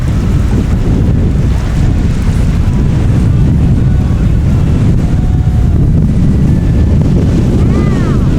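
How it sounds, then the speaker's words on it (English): Strong wind buffets the microphone nonstop on an exposed beach on a Baja road trip, a loud, continuous low roar with gusty swells and surf sounds beneath. "This wind is no joke right now."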